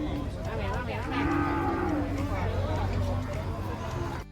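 Cattle at a livestock market where cows are bought and sold for raising, lowing loudly and repeatedly in drawn-out moos close by, amid a constant crowd hubbub.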